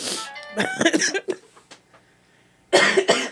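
Several harsh coughs burst out close by in a quick cluster, followed by a quiet pause and then two more loud coughs.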